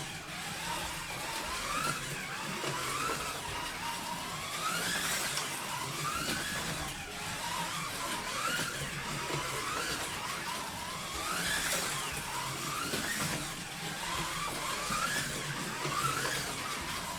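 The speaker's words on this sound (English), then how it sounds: "So let's see how this car runs on the track." A Revoslot Mazda RX-7 slot car, a 1979 Daytona model, running laps on a track, with a faint continuous whirring motor that rises and falls in regular waves as it passes.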